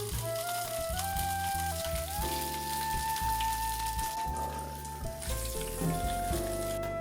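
Bacon frying on a 1600W Vevor electric flat top griddle gives a constant soft sizzle, heard faintly beneath a louder musical backing that runs through the whole stretch.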